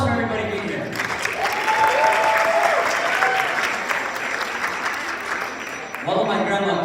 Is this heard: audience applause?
yes